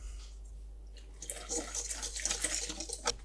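Water poured into a vegan flour batter, a soft splashing, trickling pour that starts after a quiet second and runs to the end, close and moderately loud.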